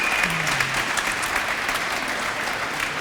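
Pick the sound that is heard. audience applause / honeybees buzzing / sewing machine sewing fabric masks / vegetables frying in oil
audience applause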